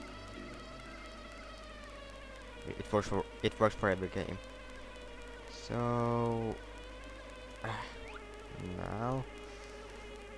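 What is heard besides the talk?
bees buzzing around a beehive in Banjo-Tooie video game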